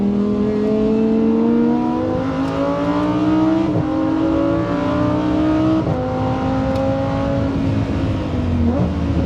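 A Lamborghini STO engine screams loudly on the Nürburgring racetrack, revving up through gears in repeated rising sweeps with brief drops at each shift, heard close from inside the car.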